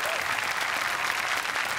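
A studio audience at a Marathi comedy show claps loudly and steadily, a dense, even wash of applause lasting the whole moment with no pauses.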